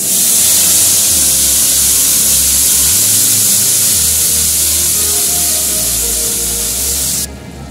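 Spice paste hitting hot fish oil with dried red chillies and nigella seeds for doi sorshe bata, giving a loud, steady close hiss and spray-like sizzle that runs continuously without speech.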